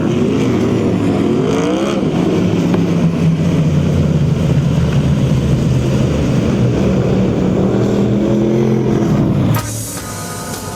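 USAC/CRA sprint cars roar around the Perris, California dirt track, a dense, loud engine drone rising and falling continuously as cars pass, cutting off abruptly near the end.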